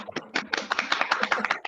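A small group claps for a woman at a Greek community gathering in Brazil: light, scattered hand claps and taps that build quickly into a brief, uneven patter.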